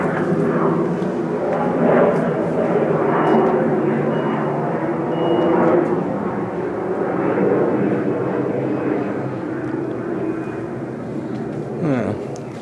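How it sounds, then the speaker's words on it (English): A plane flies overhead outside a house, its broad engine roar droning steadily and loudly throughout, swelling and easing slightly as it passes, with no speech over it. "Don't normally get that sort of plane over here."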